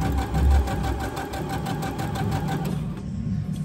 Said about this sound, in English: Right now I'm sewing the casing for the elastic.